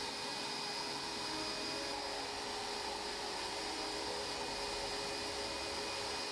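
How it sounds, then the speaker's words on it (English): A shop vac with a 3D printed hose adapter runs steadily at a moderate distance, a constant airy roar with a faint high whine that holds unchanged throughout with no voices. "figure out which of the many included adapters fit my vacuum"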